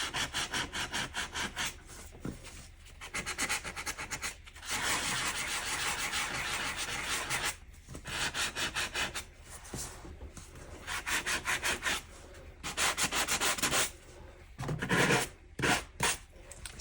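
Edges of scrapbook paper are distressed by rubbing, a close, dry scraping sound coming in rapid repeated strokes, with short pauses between bursts and a longer continuous stretch of rubbing.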